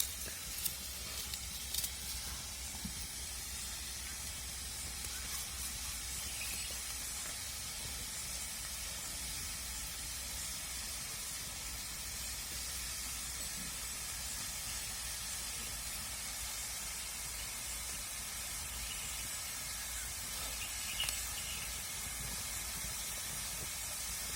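Onion sautéing in a pan for Maharashtrian dal kanda, a steady, fairly faint hiss of frying that runs throughout with a few light clicks, no voices.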